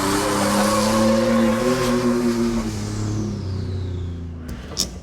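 A turbocharged Toyota Tacoma pickup's engine revs hard and holds steady during a power test, a loud sustained droning tone that slowly shifts pitch before easing off, with a faint hiss near the end and no speech.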